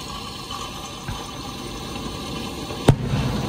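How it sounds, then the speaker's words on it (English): Fireworks going off in a field next to a drive-in theater, a single sharp loud bang near the end over a steady background hum, with a fainter pop earlier. "some idiot is setting off fireworks in the field next to us"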